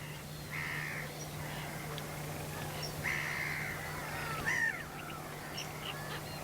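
Black-crowned night heron nestlings give harsh, croaking calls in a few short bursts over a steady low hum, fairly faint and distant.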